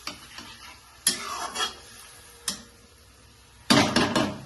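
Spice paste sizzles in a pan for a Bengali tomato and fish curry, with a few sharp bursts of hissing and clattering stirs as water goes in, fairly close and without talk.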